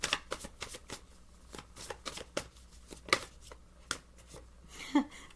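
Tarot cards are shuffled by hand close up, a quick run of crisp riffling and flicking strokes repeating in uneven bursts, fairly quiet with a faint voice near the end.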